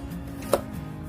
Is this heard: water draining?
no